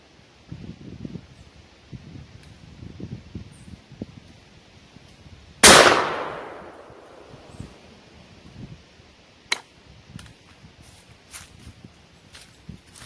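An H&R Topper 88 3-inch 20 gauge shotgun fires one loud, sharp blast with a long outdoor decay. A metallic ping from the spinner target follows a few seconds later, with faint footsteps and rustling around it.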